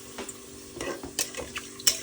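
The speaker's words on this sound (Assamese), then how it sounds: "এয়া মই এতিয়া পোলাওখিনি তাতে পানী দি দিলোঁ আৰু।" Water poured into pulao rice in a hot pot sizzles and crackles in short bursts, with light scraping of a spoon against the pot, close and fairly loud.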